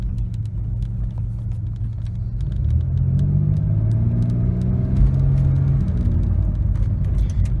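A turbocharged Chevrolet Beretta with a stall converter drives along at normal pace, its engine a steady low rumble heard from inside the car that swells as it picks up speed, with no talk.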